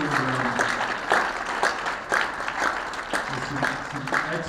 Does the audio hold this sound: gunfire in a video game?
no